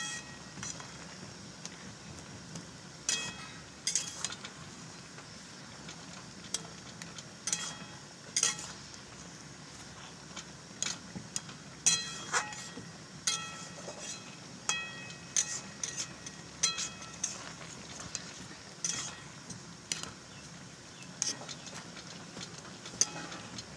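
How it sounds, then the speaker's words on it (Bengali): A metal spatula pressing and mashing a kalai dal curry in a pan, making repeated sharp scraping clinks against the metal over a low steady background hum, close and fairly quiet, with no talking. "খুন্তি দিয়ে এরকমভাবে চেপে চেপে দেবো যাতে তরকারিটা একটু গামাখা গামাখা হয়ে যায়"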